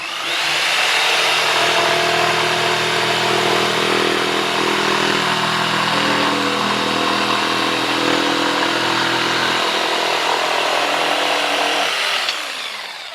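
Bosch PST 900 PEL corded jigsaw cutting with pendulum action switched off, a loud, steady, continuous buzzing whine held close up for about twelve seconds before winding down.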